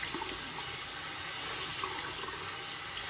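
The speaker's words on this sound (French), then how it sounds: "je mets de l'eau dans le creux de mes mains et je me lance de l'eau sur le visage" Water scooped in cupped hands and splashed onto the face at a sink, a continuous close rush of running and splashing water with no talk.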